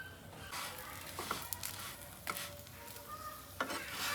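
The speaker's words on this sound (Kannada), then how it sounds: "ಮತ್ತೆ ನಾನಿಲ್ಲಿ ಹಾಕ್ತಾಯಿದ್ದೀನಿ ಬಟರ್ ಹಾಕಿ" Butter heating in a hot pan for an avocado sandwich, a soft steady sizzle with a few scraping stirs and light clinks, close but quiet, with no voices.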